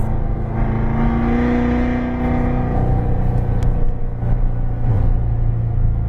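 A car engine pulls hard at full throttle on a track, a loud continuous roar with a steady tonal drone that rises through the gears, close and unbroken for the whole stretch without talk.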